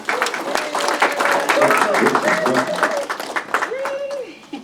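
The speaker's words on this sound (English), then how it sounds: "Please give her a round of applause and your full attention" Audience at an annual summit applauding, a sustained burst of clapping with a voice speaking over it.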